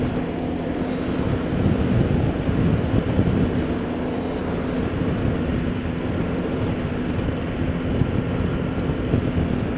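Steady roar of wind while riding a Yamaha TMAX scooter on a motorway, a dense continuous rush with a low engine hum underneath, loud and unbroken, no talk.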